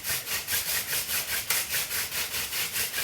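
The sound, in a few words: friction fire hand drill spindle spinning on wood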